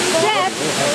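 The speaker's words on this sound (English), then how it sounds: "some of us continued to this waterfall, which pictures don't do justice to." Waterfall in Cuba reached along a forest walking path, giving a steady broadband rush of falling water, close and continuous throughout.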